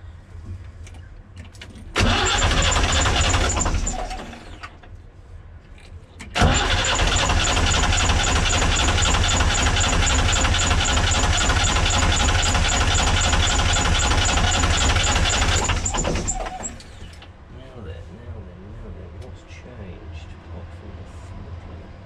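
A BMC 1.5 engine cranks briefly, stops, then starts and idles steadily, running roughly as if not firing on all cylinders, loud and close before cutting off.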